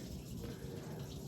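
Water runs from a tap while a grimy motorcycle part is washed with soap during a Rieju RS2 Matrix Pro 125cc restoration, a quiet steady splashing flow with no talking.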